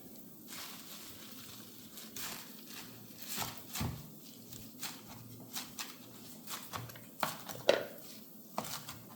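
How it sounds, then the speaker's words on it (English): A knife chopping spinach leaves on a cutting board, a run of soft, uneven taps at a moderate pace, faint and close, over a steady low background hum. "what we're going to do is chop them up"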